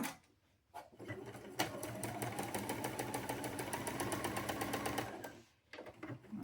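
A sewing machine stitches fabric pieces together in a quilting project, running as one steady, close motor whir with a rapid needle rhythm for about four seconds before stopping.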